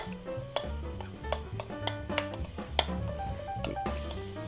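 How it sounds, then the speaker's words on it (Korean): Seasoned wild greens being mixed by hand with gochujang, garlic and chopped green onion, giving soft, wet squishing and light clinks from bowl and utensils in a steady, close rhythm, with no talk. "마늘, 다진 파, 네, 좀 섞어주세요."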